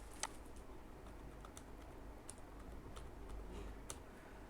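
Light typing on a computer keyboard, a sparse scatter of soft, irregular key clicks over a quiet room hum, faint and close with no voices.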